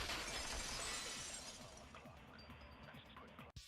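A vase shatters in the video game Danganronpa 2: Goodbye Despair, a loud crash of breaking pottery that rings out and decays over a few seconds, ending with a brief sharp click.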